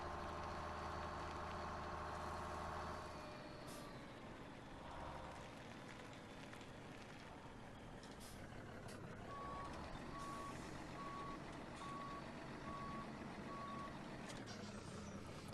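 A truck in Farming Simulator 17 idles and reverses to hook up a chip trailer, a steady engine drone under a repeating reversing beep, with air-brake hisses here and there.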